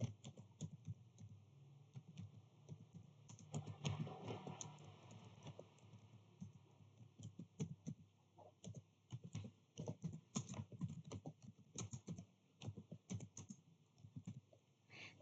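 Continuous typing on a computer keyboard while entering network switch commands, fast irregular clicks close to the mic, growing busier toward the end, with a faint steady hum underneath.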